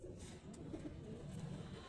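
Pigeons cooing softly at close range in a steady low murmur, several birds overlapping continuously, with faint background hum and no speech.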